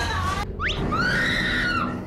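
A person screams inside a scary prank elevator: a sudden, loud, rising shriek that holds a high, wavering pitch for about a second over low background rumble.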